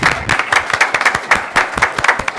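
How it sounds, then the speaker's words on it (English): A round of applause at a city candidate forum, with clapping that comes in uneven bursts, fairly close and loud, while a few voices are heard faintly underneath. "Let's give them a round of applause as well,"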